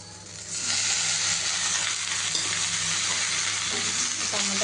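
Tomatoes and chilies fry in a pan, giving a loud, steady sizzle and hiss that holds throughout with faint stirring clatter and no speech.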